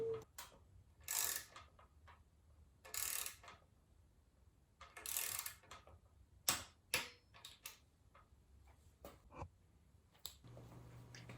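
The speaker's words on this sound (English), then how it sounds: "tighten the crank bolt to 4 Newton meters" A torque wrench tightens the crank bolts on a track bike, making quiet, close ratcheting clicks in short irregular bursts with soft metallic ticks between them.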